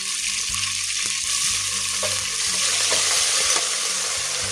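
Mint leaves frying in hot oil in a pan, a steady loud sizzle with occasional stirring scrapes running throughout, no talking.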